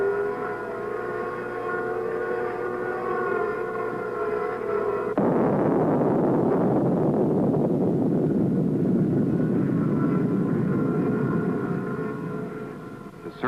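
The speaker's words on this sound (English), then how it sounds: "The buzzing sounds over the earth noises are from helicopters flying overhead." Helicopters flying overhead, picked up by geophones buried in the earth, give a steady droning buzz with tonal harmonics layered over broadband rumbling earth noise, continuous and fairly loud throughout.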